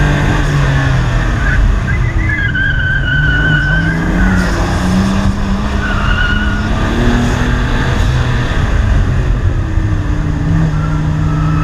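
A BMW M3's engine roars loudly and continuously on a track with traction control off while tires squeal and skid through drifting turns, close and intense throughout.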